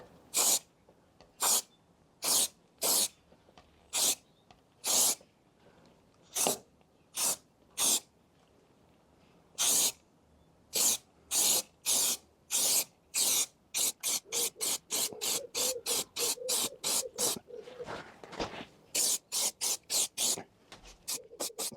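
An aerosol paint can sprays the rusty rear subframe of a Jaguar XK8 in many short hissing bursts, spaced at first then faster in quick succession, close and sharp with quiet between bursts and no talk.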